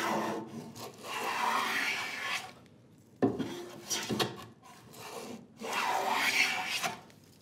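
Hand plane shaving down the side of a wooden workbench drawer, heard as long rasping strokes. Three sustained passes come with brief quiet gaps between them, fairly close and moderately loud, with no talking.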